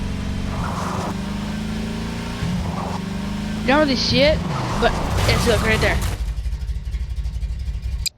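A car engine in Garry's Mod drones steadily at first, then rises and revs with shifting pitch as the car takes a turn, cutting off abruptly near the end, while someone talks throughout.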